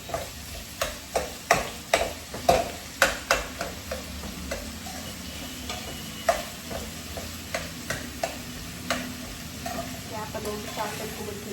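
Onions and vegetables for upma fry in a pan as a spatula knocks and scrapes in a quick run of sharp strikes, then slower occasional stirs over a soft, steady sizzle.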